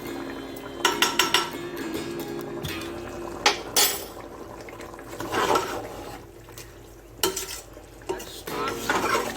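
Spoon stirring a quail biryani mixture with gooseberry in a pot, giving repeated scraping clatters and clinks against the metal with a soft sizzle underneath, close and fairly loud in bursts.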